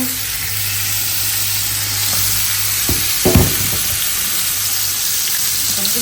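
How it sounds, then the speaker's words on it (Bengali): Fish pieces marinated in garlic paste, lemon juice and chili frying in hot oil, a loud steady sizzle with a brief louder spatter midway. "এখন এগুলাকে রসুন বাটা লেবুর রস তারপরে হচ্ছে মরিচ মিক্স করে এখন ফ্রাই করে নেব"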